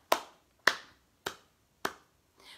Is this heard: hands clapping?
yes